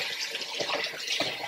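Water gushes steadily from a tap into a sink while a filthy Polaris Predator ATV air filter is washed, a continuous close splashing hiss with brief louder surges as the flow hits the filter.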